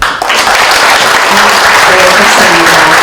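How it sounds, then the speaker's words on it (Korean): Audience applause welcoming guests at the opening ceremony of a 2023 crime-prevention rally, dense sustained clapping from a large crowd filling the whole stretch, loud and steady with a faint voice murmuring underneath. "여러분께서는 큰 박수로 환영해 주시면 감사하겠습니다."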